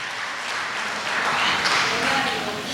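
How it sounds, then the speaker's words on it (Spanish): A church congregation claps in a steady, moderately loud burst of applause during a sermon, a continuous wash of hands with no distinct rhythm. "¿Cuántos pueden dar un aplauso a Jesucristo, el pan de vida?"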